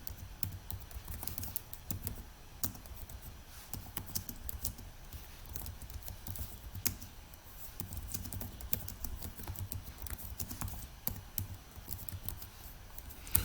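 Quiet, close computer keyboard typing, a steady run of soft key clicks with brief pauses and a few sharper taps, no one speaking.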